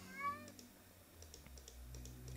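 A cat gives a single short, clear meow at the very start, followed by faint scattered keyboard typing clicks over a low steady hum.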